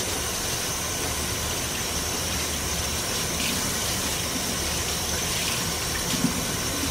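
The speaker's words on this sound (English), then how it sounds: "Let me wash my hands real quick here." Tap water runs steadily from a kitchen faucet while hands are washed under it, a constant close hissing gush with faint splashes and no speech.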